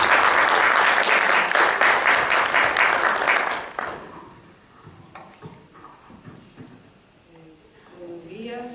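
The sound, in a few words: audience applause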